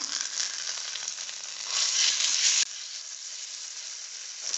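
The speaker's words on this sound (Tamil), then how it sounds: "மசாலா தடவி வச்சுருக்கிற மீன் துண்டுகளை போட்டுக்கலாம் ஸோ எண்ணெய் விட்டுக்கலாம் லோ ஃப்ளேம்லேயே நல்லா வேகட்டும்" Masala-coated kingfish pieces fry in oil over a low flame with a steady, close hiss that swells louder for a moment midway and then settles back to an even sizzle.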